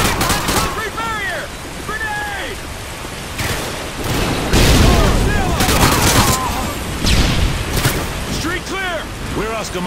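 A grenade explodes amid gunfire in Call of Duty Modern Warfare 2: a dense, loud battle of rapid shots, with one heavy blast midway and soldiers shouting throughout.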